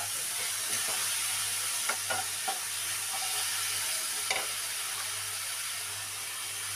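Chopped roselle fruit and tomato fry in a pan with salt and turmeric as they are stirred, giving a quiet, steady sizzling hiss broken by a few soft scraping clicks.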